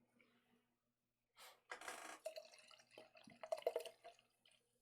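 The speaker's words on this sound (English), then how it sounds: "listen to those good drink sounds" A drink is poured from a can in several short splashing and fizzing bursts, quiet and close, with brief gaps between the pours.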